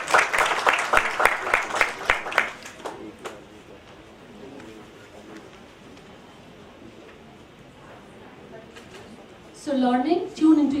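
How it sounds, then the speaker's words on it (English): Audience clapping at a book launch event for a biography, loud at first then thinning out into room murmur, with a voice speaking briefly near the end. "So can we please clap for her"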